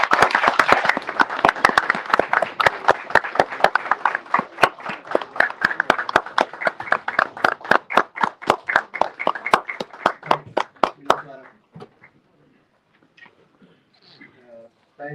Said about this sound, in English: With a huge round of applause, Dr. Naseem Baloch, please.